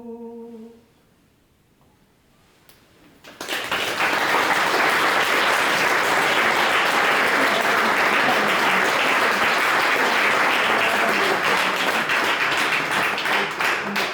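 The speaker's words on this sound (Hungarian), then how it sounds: "Tapsoljuk meg még egyszer." An audience claps after a folk song performance of Nyárádmente melodies at an opening ceremony; after a quiet start, sustained loud, dense applause fills the room for about ten seconds.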